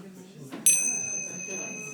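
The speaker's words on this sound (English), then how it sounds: "I will ring the bell when it's time to finish." A single bell rung to mark the end of a partner exercise in a tantra workshop, with a bright ringing strike that sustains and slowly fades over a quiet room murmur.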